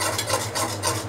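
Caramel for pudding being stirred nonstop in a pan: a soft, steady scraping and rubbing, quiet and close, with no speech.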